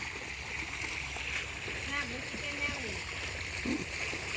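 A small garden fountain, its head submerged in floodwater so it barely rises, gives a steady low splash and gurgle of water under voices talking nearby.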